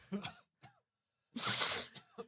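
A couple of short, sharp coughs and a throat-clearing burst, close up, separated by brief silences with a little vocal sound.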